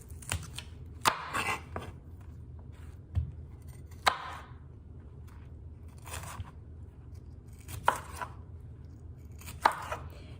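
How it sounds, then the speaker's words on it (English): A knife chops broccoli into small bite-sized pieces on a cutting board: scattered sharp crunchy strikes, some in quick pairs, spaced irregularly over a low steady background hum, with no talking. "I'm going to get started by cutting the broccoli into small bite-sized pieces"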